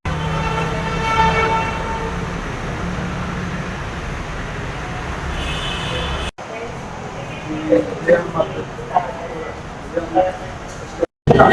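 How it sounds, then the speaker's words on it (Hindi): A Lahore metro train arriving and pulling away, with a steady rumble and a tonal hum or horn-like note early, then clattering movement, heard amid nearby talking. "ये जी मेट्रो में बैठ गए और मेट्रो यहाँ पे चल पड़ी है।"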